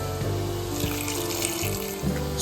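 Water pours from a tap into a pressure cooker holding cubed Chinese potato (koorka) for a Kerala-style ularthu, a steady splashing stream running throughout with no voices.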